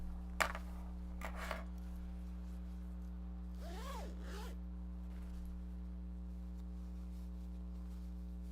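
Zipper pulls on large box bags rasp through two quick short zips near the start, then one longer drawn zip a few seconds later, quiet and close over a steady background hum.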